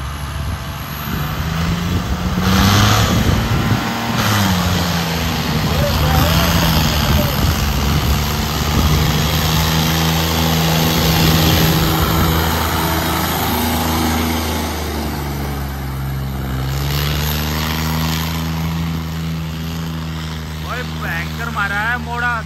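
A steady John Deere tractor engine drone runs throughout, rising and falling in pitch as it revs, with a voice talking over it.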